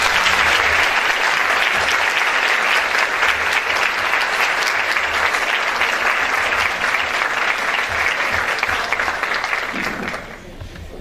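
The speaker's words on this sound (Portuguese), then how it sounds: "Uma salva de palmas." Audience applause for a priest's talk: dense, sustained clapping from a crowd, loud and steady for about ten seconds before it thins and fades at the end.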